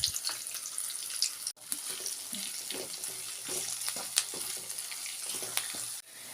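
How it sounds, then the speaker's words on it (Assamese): Ginger, garlic and onion fry in a pan with a moderate, steady sizzle and occasional stirring scrapes, close but fairly quiet, with a brief clatter near the start. "দুই মিনিটমান এইদৰে আদা নহৰু পিঁয়াজ ভজা হৈ গৈছে"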